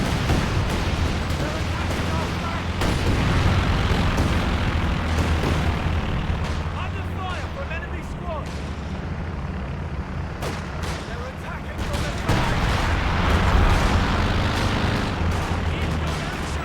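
Rocket artillery explosions in a strategy video game roll out as heavy booms and rumbling blasts over a dense battle din, with a voice talking at points beneath the noise.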